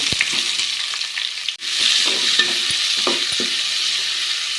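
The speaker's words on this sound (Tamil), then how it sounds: "நல்லா கண்ணாடி பதவத்துக்கு வதங்கணுங்க" Onions sizzle steadily in hot oil with mustard seeds and garlic, with occasional scraping stirs and light pops over the continuous frying hiss.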